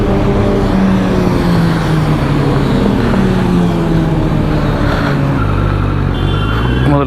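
A Kawasaki Z900 motorcycle with an LV full system exhaust runs loud and close, its engine note sliding down and rising again as it revs and rides, with a deep, rumbling exhaust.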